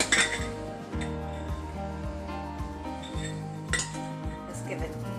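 A Greek yogurt dip being mixed in a bowl with a utensil produces repeated clinks and scrapes against the bowl, fairly close and moderately quiet, with no talking.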